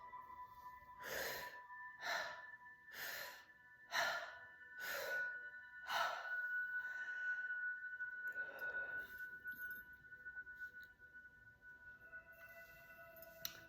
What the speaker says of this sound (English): I yawn quickly because I practice this so frequently.